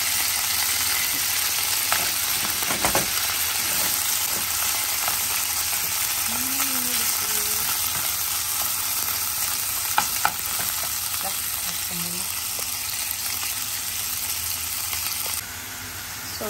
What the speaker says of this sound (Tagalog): Kaya gisa muna natin ulit yung baboy.